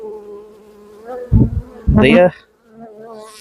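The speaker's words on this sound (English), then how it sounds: "You can already see that the bees are doing some orientation flights to it as well." Honey bees from a swarm buzz around their new hive box with a close, loud droning hum that swells and fades as individual bees fly past, and a brief spoken word is heard.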